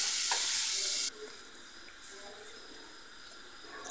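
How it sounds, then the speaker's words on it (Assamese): Tomatoes fry over very low heat in a pan, starting with a louder burst of sizzle that drops after a second to a quiet, steady hiss with soft stirring sounds. "বিলাহীখিনি মানে সম্পূৰ্ণ গলি যোৱালৈকে ভাজিয়ে থাকিম"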